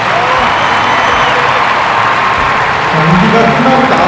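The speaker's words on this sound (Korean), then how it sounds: "여러분 다시 한번 큰 박수 부탁드리겠습니다" Spectators at a recurve men's semifinal archery match give a big round of applause, a dense, steady wash of clapping with some crowd noise swelling slightly toward the end.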